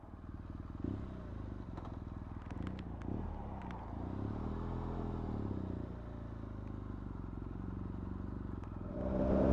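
Motorcycle riding on new Metzeler Karoo Street tyres, a steady engine drone and road rumble running throughout at close range, with a few light clicks and a louder swell at the end.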